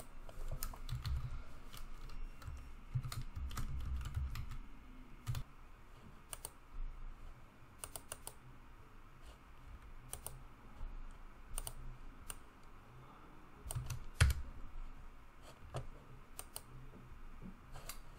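Scattered clicks of typing on a computer keyboard, light and irregular keystrokes close by, alone without talk, with a brief louder tap cluster near the end over a low background hum.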